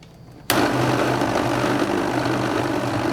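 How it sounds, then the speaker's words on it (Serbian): An electric blender starts abruptly and grinds garlic, salt, pepper, basil and water at a steady, loud whir that holds without a break. "i sve ću ovo samleti"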